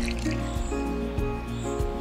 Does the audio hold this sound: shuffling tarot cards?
no